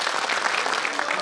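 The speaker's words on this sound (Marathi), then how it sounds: "सर्व इथं ज्येष्ठ उपस्थित असलेले माझे बंधू संघर्ष योद्धा भगिनींसाठी एकदा टाळ्या होऊन जाऊ द्या" An audience at a community reservation discussion session applauds with steady, dense clapping that stays loud and even throughout.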